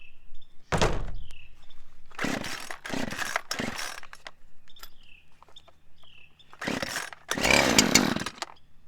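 Chainsaw engine running in bursts during tree cutting, several loud revving blasts separated by quieter idling and gaps, close to the microphone.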